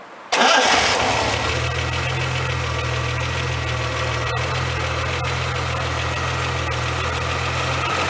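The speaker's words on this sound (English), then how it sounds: "So let's hear this engine run." A 1976 Triumph TR6 inline six-cylinder engine cranks and catches, then settles into a steady, smooth idle with a low continuous hum.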